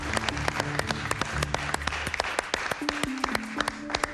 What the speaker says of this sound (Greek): Ένα χειροκρότημα για να του στείλουμε την αγάπη μας.